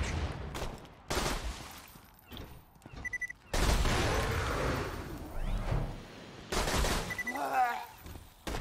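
Gunfire in the Borderlands 2 video game: loud bursts of rapid shots in clusters, mixed with explosive booms, whooshes and faint game voices.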